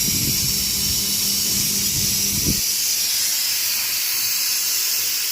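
Yellow pea lentils boil in a pot while pointed gourd fries nearby, a steady close hiss and sizzle of frying that drops away partway through, leaving a softer continuous bubbling steam.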